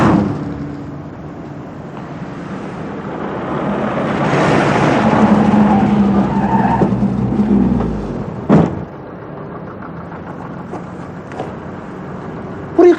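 A hearse swells into a loud, rumbling rush with a low tonal squeal as it skids to a stop, then a sharp thud, followed by a quieter idle.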